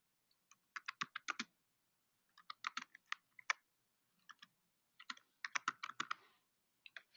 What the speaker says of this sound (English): I'm just typing stuff in here because I want to know what else is going on